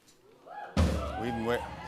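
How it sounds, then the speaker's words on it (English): A cabinet door on a Countdown to Christmas set on a late-night talk show swings open with a sudden loud thump, after which a voice continues speaking. "let's open door number 10"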